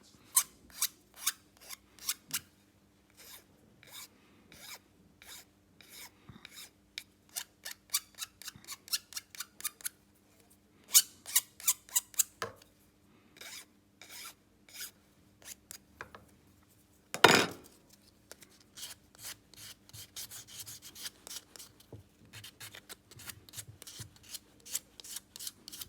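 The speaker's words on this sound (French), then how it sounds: "passer un petit coup de lime sur les bords et un petit peu de toile émery pour avoir un rebord qui est bien lisse" Hand filing along the edges of a rigid template, then smoothing with emery cloth: repeated short rasping strokes in bursts, close and fairly quiet, with one louder scrape partway through and no talk.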